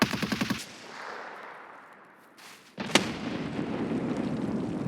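Gunfire and a grenade blast in Escape from Tarkov: a rapid burst of shots opens, then a lull, then a sharp loud explosion followed by sustained rumbling noise.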